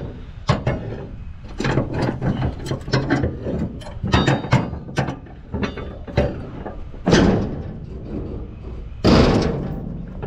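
A ratchet mechanism on a roll-off dumpster door clacks repeatedly in quick bursts of metallic ratcheting, followed by a couple of heavier clunks as the door is drawn shut outdoors.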